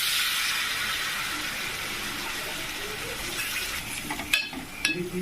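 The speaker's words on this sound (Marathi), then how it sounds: "हलव्याला हलवण्याचं काम चालू आहे." Halwa fish, a pomfret-like fish, cooks in a pan while being stirred, giving a steady soft sizzle with light scraping and wet stirring sounds that pick up toward the end, and no talking.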